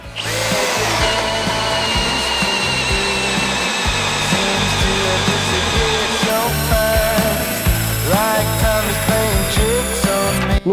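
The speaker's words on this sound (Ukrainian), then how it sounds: "Так, ну що ж, спробуємо півметрове сверло, не знаю, чи візьме." A Bosch GSB 18V-65 cordless drill bores with a half-metre bit, giving a loud, continuous high whine that holds steady, then shifts pitch and wavers as the bit loads up near the end.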